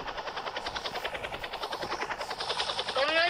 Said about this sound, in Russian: у меня теперь вертолет по кругу крутится